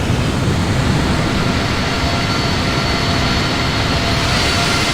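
Boeing 777-200LR airliner engines in the FSX flight simulator give a steady, loud broadband jet roar with a faint whine, unchanging and constant throughout the cruise.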